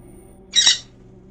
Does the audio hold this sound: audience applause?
no